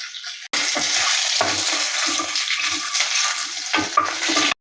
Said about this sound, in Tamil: நம்ம ஸ்லைஸ் செய்து வச்ச இஞ்சி, பூண்டு, பச்சை மிளகு இதெல்லாம் கூட சேர்த்து ஒரு 25 செகண்ட் மிக்ஸ் பண்ணி கொடுക്കാം.